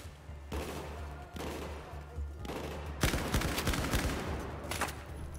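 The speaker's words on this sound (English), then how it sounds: "Yeah, this gun puts people down quick." Rapid gunfire from a weapon in the Battlefield 4 single-player campaign, dense bursts of close, loud automatic shots that grow heavier and more continuous toward the end.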